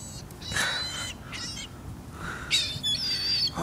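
Birds honk and squawk while being fed pieces of bread, several loud harsh calls in separate bursts with a shrill, higher-pitched cluster near the end.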